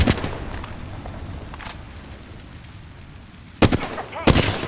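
Gunfire in the Apex Legends video game: a few short, sharp bursts at the start, then a quieter stretch of game ambience, before louder, close volleys of rapid shots near the end.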